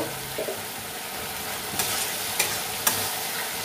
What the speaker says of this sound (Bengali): এবার এটাকে ভালো করে নেড়ে দেব।